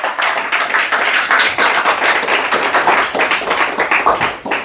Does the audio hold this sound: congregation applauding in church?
yes